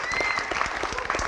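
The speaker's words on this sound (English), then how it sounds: "Give them another round of applause." A brief burst of applause from a graduation audience, with many hands clapping in a dense, lively patter that continues throughout.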